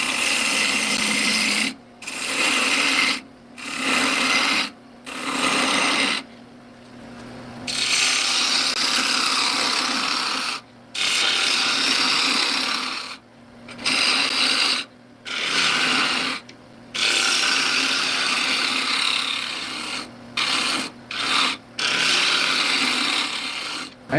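A carbide tool turns a soft-wood bowl on a lathe, scraping in long bursts of rough cutting noise broken by short silent pauses, loud and close, with no speech.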